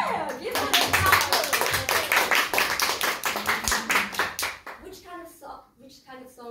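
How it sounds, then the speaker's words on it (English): Group clapping at a club meeting with a guest speaker, many hands beating fast and dense, close and loud, while children's and adults' voices call out over it before the claps fade into a speaking voice. "Give them a clap!"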